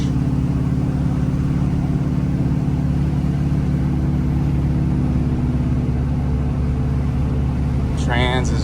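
A Jeep's engine rumbles steadily in low gear as the vehicle climbs a short, bumpy off-road incline, a continuous close drone under faint voices.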